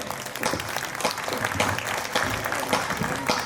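An audience at a Hindi poetry gathering in Amgaon applauds in a dense, steady patter of many hands clapping.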